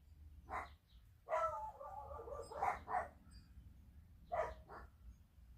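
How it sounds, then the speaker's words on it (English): Several dogs bark indoors in short, sharp bursts, a single yap then a run of quick overlapping barks and a final pair, fairly near and loud against a quiet room. "And you hear the dogs."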